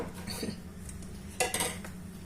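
A spoon scooping a mixture into an oven dish for a gratin, with light clinks of metal against the dish and a sharper scrape and tap near the middle.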